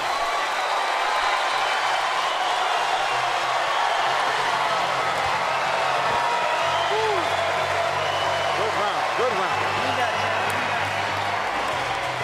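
A boxing arena crowd roars and applauds steadily at the bell of a women's bout, a thick wall of cheering that does not let up, with a commentator talking over it.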